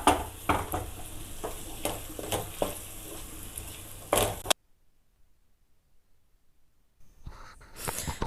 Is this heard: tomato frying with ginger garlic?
yes